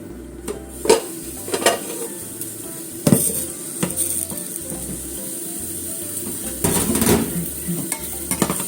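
Flourless okonomiyaki cooking in a shallow frying pan, a soft sizzle underneath with scraping and clinking of a utensil against the pan, several sharper knocks, close and moderately loud, without talk.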